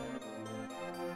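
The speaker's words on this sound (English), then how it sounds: "Oh, did we just heal ourselves? That's what that noise was." A healing sound effect from the video game SaGa Frontier Remastered: a sustained, shimmering tone with layered harmonics, steady and moderately loud, lasting about a second with no voices over it.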